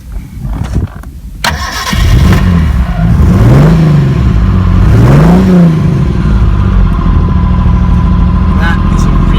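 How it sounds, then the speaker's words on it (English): A classic Ford car engine with an electric fuel pump cranks and catches after a couple of seconds, then runs and revs briefly before settling into a loud, steady idle close by, with people talking over it. "Let's have a listen to that engine."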